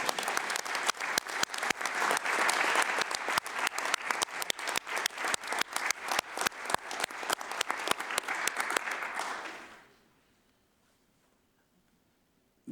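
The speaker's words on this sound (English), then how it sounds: "Please let us clap for them," Audience applause at a global skin NTD meeting, a dense, steady round of clapping for nearly ten seconds before it fades abruptly into near silence.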